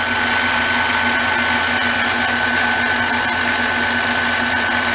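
A Harbor Freight mini lathe runs steadily with its carriage advancing, giving a loud, constant motor whine and hum that holds unchanged throughout with no pauses, close to the listener.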